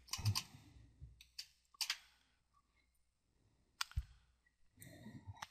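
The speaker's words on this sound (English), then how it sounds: "You're going to type in this site." Quiet bursts of computer keyboard typing, short clusters of key clicks separated by pauses, close and faint, with no talking.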